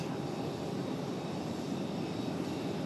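A plane landing on runway 5 right at Raleigh Durham airport, heard as a steady, distant engine roar with broadband rumble that holds evenly throughout, no voices.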